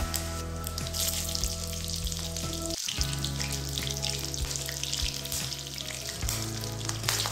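Garlic, cumin seeds and torn green chillies fry in hot oil for a fenugreek-leaf soup, giving a steady close sizzle with a few short stirring scrapes and no talk.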